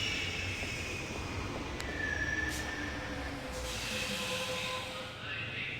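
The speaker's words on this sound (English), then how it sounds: "how about we get into the train?" A train in the video game The Longest Journey rumbles steadily with a hissing, clattering wagon sound and faint squealing wheels, continuous and fairly loud throughout with no talk.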